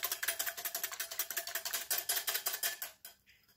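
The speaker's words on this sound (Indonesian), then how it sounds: "kemudian kita akan mengocoknya sampai kuning telurnya tercampur dengan putih telurnya" Eggs beaten with a whisk in a bowl, yolks mixing into whites for a sweet pandan crepe batter; rapid, steady rhythmic clicking strokes close up, stopping abruptly near the end.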